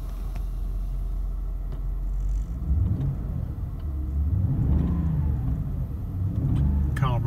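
A one-owner 1996 Mercedes S420 Coupe with 106,000 miles idles close by, a steady low rumble that swells slightly partway through, with someone talking over it.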